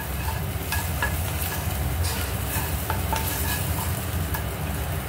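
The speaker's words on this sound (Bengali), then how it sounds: "ভালো করে নাড়বো।" Corn kernels being stirred in a hot pan give a dense, constant sizzle with scattered scraping clicks, loud and close, with no voices.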